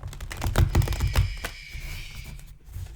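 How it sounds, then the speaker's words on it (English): Playing cards are shuffled quietly, giving a run of soft, quick riffling clicks and taps that is busiest early on and then thins to lighter rustling. "I'm trying to shuffle the cards quietly."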